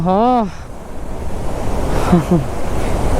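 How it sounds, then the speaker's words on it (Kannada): A waterfall in Nepal gives a steady, loud rushing roar of water throughout, with a short voice heard at the start and a faint voice partway through. "ಇಲ್ಲೊಂದು ವಾಟರ್ ಫಾಲ್ಸ್ ಇದೆ ವಾವ್ ಬ್ಯೂಟಿಫುಲ್"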